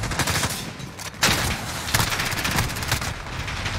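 Rapid automatic gunfire in Modern Warfare multiplayer, shots fired through the cracks of a barrel, with dense continuous bursts and sharp cracks that are loud and close.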